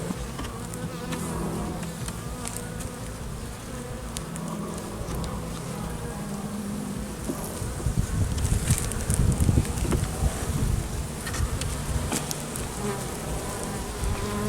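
Dense buzzing of a honeybee colony during a hive inspection after Asian hornet attacks, a steady close drone with rustling that swells louder toward the middle.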